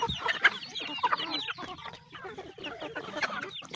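Native chickens cluck and chatter busily while being fed, several birds close by, with overlapping bursts of clucks and short squawks and no talking.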